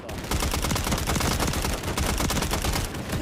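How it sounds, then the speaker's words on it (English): Rapid bursts of automatic gunfire from Modern Warfare 3 multiplayer, dense and loud, with sharp repeated shots running almost without pause. "They're not going down when I shoot them."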